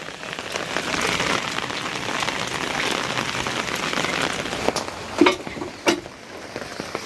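Rain drums on an umbrella held overhead, a close, dense pattering roar with a couple of sharper drip impacts near the end and no speech.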